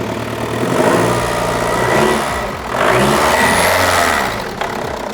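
A Ford Ranger truck engine fires up despite a dead battery and settles into a steady mid-pitched run. Loud revving swells follow near the mic, with a brief dip before it picks up again.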